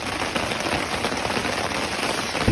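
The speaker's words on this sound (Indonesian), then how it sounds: "Hujan deras banget." Heavy rain pours steadily on a mountain hiking route, a dense, loud, continuous hiss of drops with no pauses and no voices.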